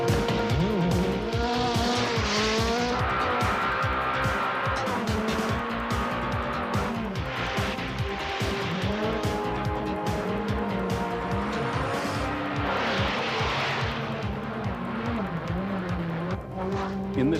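A rally car races up a mountain road course, its engine revving hard and rising and falling through the gears, with tires squealing through the corners, loud and close throughout as someone talks over it.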